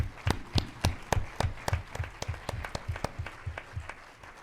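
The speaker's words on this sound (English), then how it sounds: "I just ask for a big applause for Victor" Audience claps in a loose, slightly uneven rhythm at a closing ceremony, a dozen or so distinct sharp claps in quick succession, fairly close and clear without any voices.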